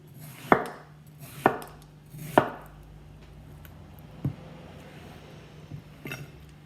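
Knife chopping rock melon-style fruit slices on a cutting board: three sharp, evenly spaced thuds close up, then a softer chop and a faint final tap, with a low steady hum underneath.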